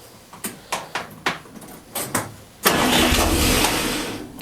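Several short cranking bursts from a cold tractor engine, then it catches and settles into a loud, steady rumbling idle.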